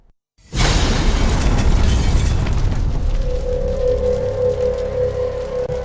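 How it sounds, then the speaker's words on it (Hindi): A sudden loud boom erupts after a brief quiet, followed by a long rumbling roar and crackle that slowly fades, with a faint steady tone emerging later. "धमाके के बाद एलन मिश्रा इतने घायल नहीं थे कि उनकी जान को कोई खतरा हो।"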